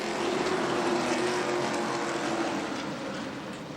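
Race cars roar off at the green flag at Berlin Raceway in a weekly NASCAR series event, a dense, sustained engine drone heard from a distance with no talk.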